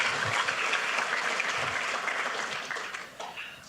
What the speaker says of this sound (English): How about another round of applause for Mr. Forrest?